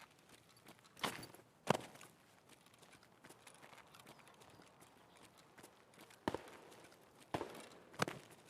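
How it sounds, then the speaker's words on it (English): Footsteps in the Escape from Tarkov video game, a few faint scattered steps and scuffs over a quiet background, with sharper thuds near the start and end. "I maybe heard a footstep."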